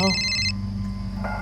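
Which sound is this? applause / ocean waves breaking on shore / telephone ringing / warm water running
telephone ringing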